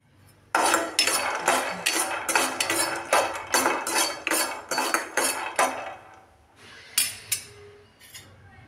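Peanuts roasting over a low flame in a pan, stirred in a steady rhythm of repeated scraping, rattling strokes of a spatula against the metal, then a pause and a few final clinks.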